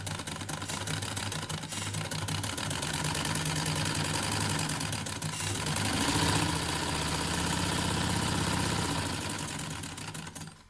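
A sewing machine stitching a V-neck line on fabric, running continuously with a fast, even mechanical whir and rapid needle rhythm, close and steady with a slight rise in the middle.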